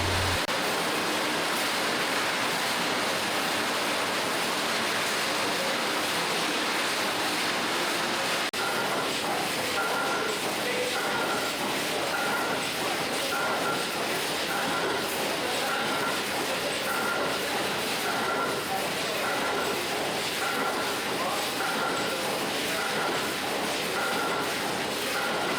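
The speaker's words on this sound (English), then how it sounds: "This antiquated DC motor is the power force for all the machinery." An old DC motor driving tea factory machinery makes a loud, continuous mechanical roar with dense rattling and clatter, holding steady from start to finish.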